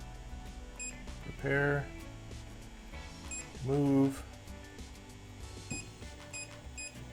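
A Creality CR-6 MAX 3D printer emits two short electronic beeps, a few seconds apart, over a quiet room while a person talks.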